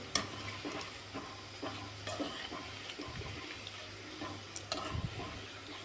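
Onion pakoda fritters deep frying in hot oil, an even crackling sizzle that runs throughout with occasional stirring clinks and a faint low hum, close and moderately quiet.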